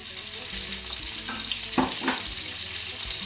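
Chicken gizzards sizzling in a hot pan beside onions and ginger, a steady close frying hiss with a couple of brief louder spatters midway, no talking.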